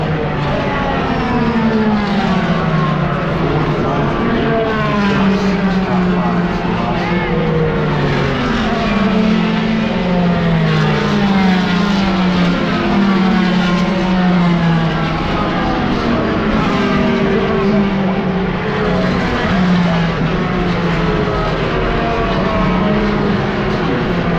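IndyCar race cars stream past on the Indy 500 track under caution late in the race, heard from the southwest vista as a loud, continuous, overlapping engine drone whose pitches sweep and shift as the field goes by.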